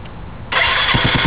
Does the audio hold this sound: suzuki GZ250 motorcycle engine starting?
yes